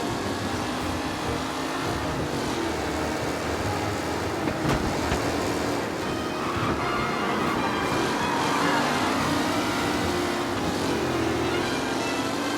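Race cars roar through a race in Mafia Definitive Edition, a dense continuous engine drone with shifting pitch and no breaks, loud and steady throughout.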